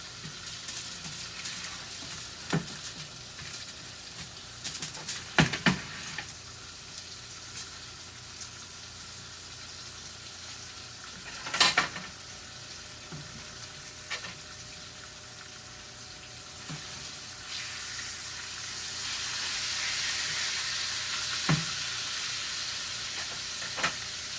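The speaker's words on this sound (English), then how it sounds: "the potatoes being fried in the pork chop grease will give the potatoes a good taste too" Potatoes frying in pork chop grease in a pan, a steady low sizzle running throughout with a few sharper clatters and scrapes of stirring, the frying growing slightly brighter and louder near the end; no talking.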